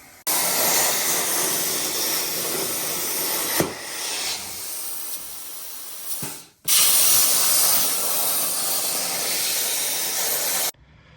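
Spray paint hisses from a can onto a welded coilover bracket for a VW Bug, two long steady bursts broken by a short pause, close and loud.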